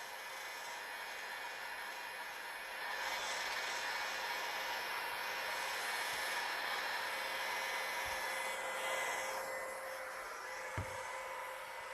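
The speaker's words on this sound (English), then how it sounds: "with my heat gun on the full setting" A heat gun runs on its full setting over a vinyl piece, producing a steady, close airy roar and hiss that swells slightly a few seconds in, with a few faint knocks and no talking.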